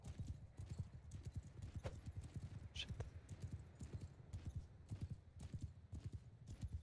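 Horses galloping in Bannerlord online PvP combat, a dense continuous rhythm of close hoof clatter over several seconds with a brief whinny partway through.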